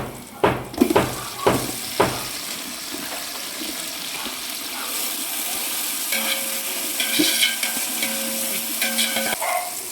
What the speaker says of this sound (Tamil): வெங்காயம் நல்லா சவந்துருச்சு தக்காளி சேர்த்துக்கலாம்